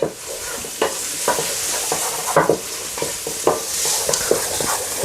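Onions for a cabbage and meat stew fry in a pan with a loud, steady hiss and sizzle, punctuated by occasional stirring scrapes and knocks, and no voices.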